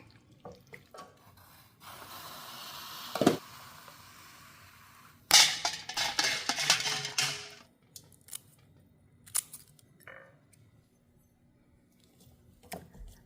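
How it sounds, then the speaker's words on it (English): Velveeta cheese chunks and Rotel being stirred together in a pot for a dip, giving scraping, sticky spoon sounds with a few sharp knocks of the utensil against the pot. No one speaks. "And now you'll want to just mix and let it all melt and combine."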